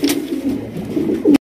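A male Lahori pigeon coos in a low, rolling series at close range, its throaty calls running continuously and swelling louder at the end.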